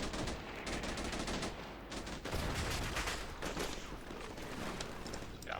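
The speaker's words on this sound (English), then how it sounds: "Got plenty of fire there." Sustained gunfire in the tactical war game Combat Mission Shock Force 2, with overlapping rifle and machine-gun bursts crackling steadily and fairly faintly, like a distant firefight that never lets up.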